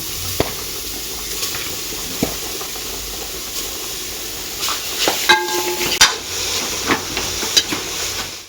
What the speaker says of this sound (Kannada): ಇವಾಗ ಕ್ಯಾರೆಟ್ ಸ್ವಲ್ಪವಾಗಿ ಹಾಕಿ ಚೆನ್ನಾಗಿ ಹುರ್ಕೊಳ್ಳೋಣ.